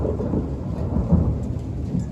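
Deep thunder rolls on and on through a valley after a lightning flash, a continuous low rumble with a slight swell near the middle, fairly distant, with rain falling steadily underneath and no talking.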